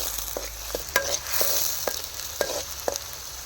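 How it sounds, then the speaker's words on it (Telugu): Chicken sizzles steadily in a hot pan, with a hiss that is interrupted every half second or so by the scrape and clink of a spatula stirring. "బ్రౌన్ కలర్ కొంచెం గోల్డెన్ కలర్ వచ్చేంత వరకు కూడా మనం ఫ్రై చేసుకున్నాము"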